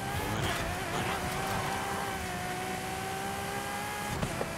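A Ferrari race car engine in Forza Horizon 5 drones at sustained high revs, steady and close, with a shifting pitch and a brief knock near the end, no speech.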